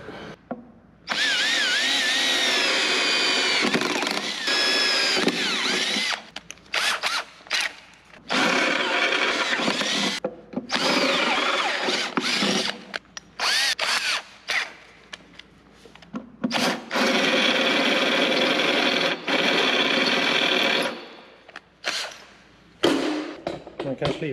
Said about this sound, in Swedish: Ja, kan vi borra där.